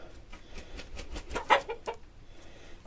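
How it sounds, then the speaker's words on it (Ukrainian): A hen clucks after laying an egg in a farmyard coop, a short run of near, moderately loud clucks with one sharper peak midway, no talking. "Гаряченька курочка знесла."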